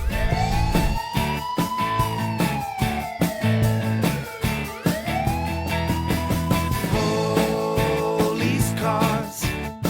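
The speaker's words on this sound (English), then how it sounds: "their sirens are so loud." A police car siren wails in rising and falling sweeps, loud and close, over a rhythmic musical beat from a children's song.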